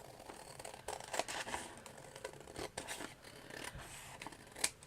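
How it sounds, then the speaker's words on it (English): Scissors trim thin leather for a miniature book, a close series of crisp snips and soft slicing cuts repeating irregularly, with light rustling in between and no talking. "And easier for me just to trim it like this."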